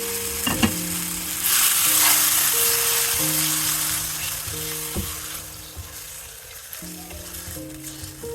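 Marinated chicken for chicken tikka pizza hits a hot pan with a loud, steady sizzle that crackles on and eases slightly over several seconds, with no talking.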